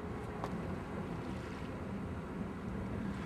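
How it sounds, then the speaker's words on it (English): Continuous ocean waves and surf rolling in, a steady broadband wash with wind noise over the microphone, loud and unbroken throughout with no talking. "Nice waves, huh?"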